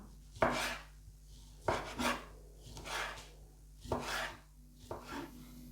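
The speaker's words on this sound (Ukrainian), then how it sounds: "Швиденько нарізаю сосиски." Five crisp knife cuts through sausages against a board, evenly spaced, close and fairly quiet with soft scraping between strokes and no talk.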